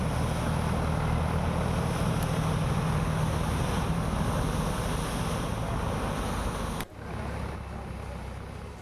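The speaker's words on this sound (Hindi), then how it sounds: "ट्यूबवेल की खुदाई का काम चल रहा था, तभी इस कदर पानी का फव्वारा फूट पड़ा" Water gushes from a tubewell borehole during drilling, flooding the surrounding area with a loud, steady rushing roar that cuts off abruptly near the end.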